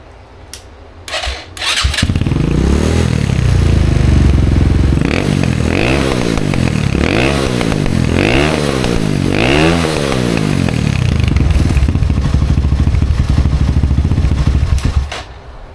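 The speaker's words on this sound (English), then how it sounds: "it actually revs out all the way now" Apollo 250cc Chinese dirt bike engine, carburetor freshly cleaned after a clogged main jet, starts up then revs repeatedly to high pitch and drops back in loud, close swells, no talking.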